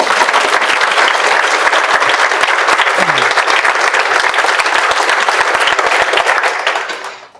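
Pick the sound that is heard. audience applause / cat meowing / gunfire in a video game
audience applause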